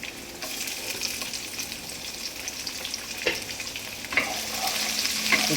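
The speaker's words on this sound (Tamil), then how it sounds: "பூண்டு கோல்டன் ப்ரௌன் ஆகட்டும்." Garlic, green chili and onion fry in a pan for a vegetarian pulao, with a steady bright sizzle and a few louder crackles and stirring scrapes near the end.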